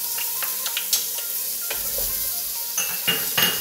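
Onion and garlic sizzle in olive oil with melted butter as a spoon stirs them around the pan, giving a steady frying hiss broken by several sharp metallic clinks and scrapes against the pot.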